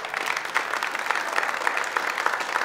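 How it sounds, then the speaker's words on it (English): A church congregation applauds its young people during a Youth Sunday service, a brisk, fairly close wash of many hands clapping with uneven swells and no talking. "can y'all give them a round of applause?"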